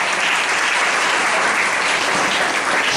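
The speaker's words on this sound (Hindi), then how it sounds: "अब भाई के लिए ताली बजाएंगे।" Loud, dense clapping from a church congregation at a worship service, a continuous wash of many hands sustained evenly for three seconds with no voices over it.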